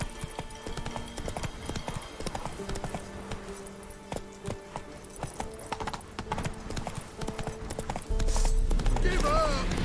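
A horse gallops in Witcher 3, rapid hooves drumming close beneath background music, and a voice urges it on before a loud swell near the end.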